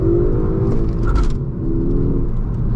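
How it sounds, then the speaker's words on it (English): A Ford Focus ST engine at wide open throttle, a loud, steady droning rumble from inside the car as it accelerates hard, with a brief higher whir partway through. "let's go ahead and try to get a couple of wide open throttles here"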